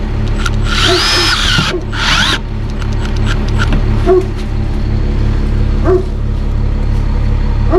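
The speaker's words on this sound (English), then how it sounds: "Milwaukee Impact actually has a metal roofing setting" A Milwaukee impact driver on its metal roofing setting drives self-tapping screws into metal roofing: a loud, close whirring burst near the start, then steady mechanical grinding with brief higher spikes as screws seat.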